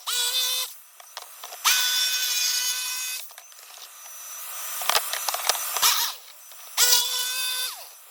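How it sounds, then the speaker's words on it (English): Holes are drilled through a homemade sign blank to let a jigsaw blade in, several bursts of a power drill whining through wood, each rising and cutting off, with quiet scraping and handling between them. "Drilling a couple holes in to make it easier to get a jigsaw in there."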